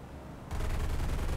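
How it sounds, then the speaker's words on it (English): Bomber's defensive gunners open fire in War Thunder, a sudden loud burst after a brief quieter lead-in, sustained rapid gunfire with heavy low rumble continuing to the end. "there's the gunners opening up again"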